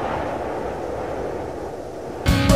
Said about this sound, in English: that was the sound of bleach just splashing on the ground